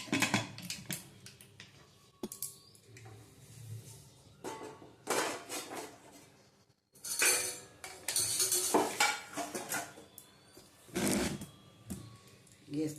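A pressure cooker lid is closed with clattering metal knocks and scrapes of pot and utensils, several clanks spread across the clip amid kitchen handling, while a person talks between the sounds.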